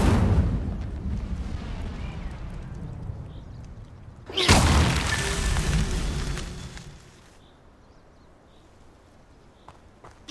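The Incendio fire spell from the video game Hogwarts Legacy bursts out suddenly in the middle of a loud, rumbling ambience, then becomes a roaring whoosh that fades over a few seconds to a low hum.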